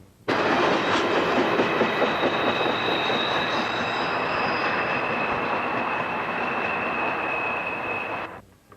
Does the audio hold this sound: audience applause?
no